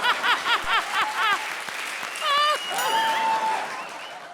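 A studio audience at a televised comedy show claps in quick bursts, mixed with voices and a little laughter.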